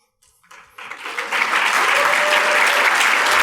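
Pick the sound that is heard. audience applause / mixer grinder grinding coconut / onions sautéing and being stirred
audience applause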